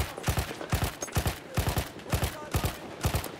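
Rapid bursts of gunfire from a Battlefield 1 match crack out in quick rhythmic volleys, about seven sharp clusters of shots close and loud over a steady battlefield din, with no voices.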